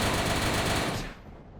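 Custom weapon with heavy recoil firing in Doom, a loud dense burst of gunfire that holds strong for about a second before cutting off into a fading tail.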